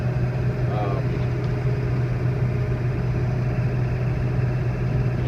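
A 2000 Ford F250 7.3 diesel 4x4 pickup driving, its steady low engine drone and road rumble continuous and loud throughout, with no voice heard.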